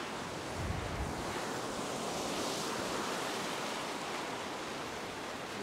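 Ocean surf breaking on a beach where someone is wading out to fish at twilight, a steady full roar of waves with wind noise, continuous and close throughout.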